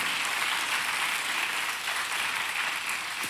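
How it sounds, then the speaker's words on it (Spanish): A church congregation applauding during a Sunday sermon, a dense, even wash of many hands clapping at once that holds steady throughout without pause. "Démosle el aplauso al Señor, ¿sí?"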